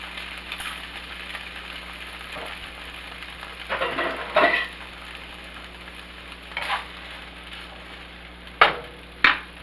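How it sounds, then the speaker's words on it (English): Two small cans of string beans go into a hot pan and fry with a steady soft sizzle. Louder stirring scrapes and clatters break in now and then, with two sharp knocks near the end. "in the same pan, I'm adding my 2 cans of string beans"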